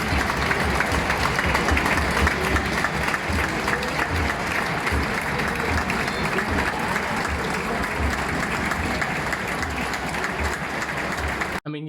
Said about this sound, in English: You even had a round of applause for Gerrard today in the 8th minute